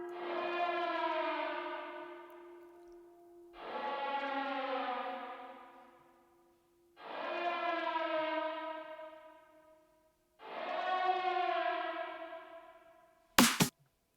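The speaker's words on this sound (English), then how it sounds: "This is a synth instrument hooked up to this automation clip." A wailing synth tone swells and fades in four long, siren-like sweeps with rich harmonics, ending in a brief sharp click.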